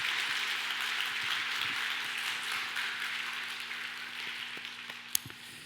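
A church congregation applauds during a Sunday worship service, a faint, distant and steady patter of many hands that runs throughout.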